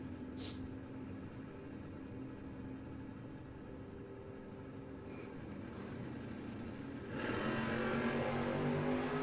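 Drag race cars, a Camaro and a Monza, roar at a no-box 660 shootout, a steady engine drone rising sharply louder near the end as the cars launch, with no talk.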